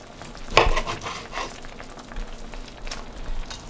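Chunks of wild cod dropped into a pot of bouillabaisse on the stovetop, with a sharp splash and clatter at first, followed by softer stirring and a faint simmering hiss.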